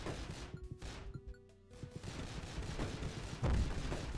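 Pistol gunfire in the Dead Estate video game: a few sharp, punchy shots cracking out over busy game noise and music, with a heavier thud near the end.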